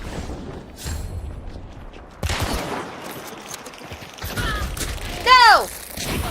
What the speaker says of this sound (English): Cover fire! Cover fire! Got tagged. Cover fire!